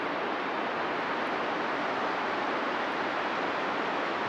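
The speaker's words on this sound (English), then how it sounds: "Nice little waterfall across the way." A small waterfall on Milk Creek, seen from across the way on a forest trail, gives a steady, even rush of falling water that holds constant throughout with no voices.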